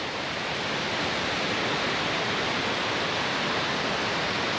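Falling water from Reese Falls, a cascading waterfall on the Gallatin River's South Fork of the West Fork, pours in a loud, even, continuous rush close to the listener, without speech.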